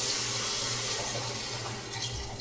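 Water gushes steadily from a tap into a pot of vegetables for an easy stock, a continuous close splashing fill that holds for the whole stretch, with no talking.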